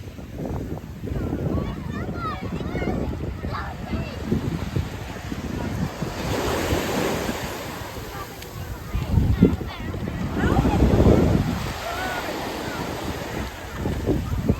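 Atlantic surf rolls onto a public beach at Halifax, Canada, a rumbling wash of waves heavily buffeted by gusty wind on the microphone, swelling louder in the second half, with faint beach voices mixed in.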